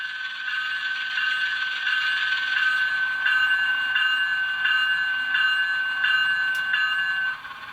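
Walthers Mainline ES44AC GEVO model locomotive with an ESU sound decoder ringing its bell, a steady rhythmic clanging repeating about every two-thirds of a second, close and clear with no talking.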